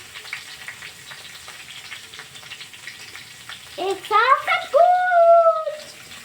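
Tomatoes frying in hot oil with onion greens for homemade egg chowmein, a steady broadband sizzle that surges louder midway as the tomatoes hit the pan, with brief tonal squeaks over the hiss.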